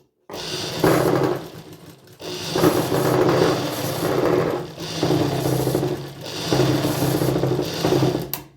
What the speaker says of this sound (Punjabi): ਇਸ ਕੱਪੜੇ ਤੇ ਮਸ਼ੀਨ ਥੋੜੇ ਔਖੀ ਚੱਲਦੀ ਹੈ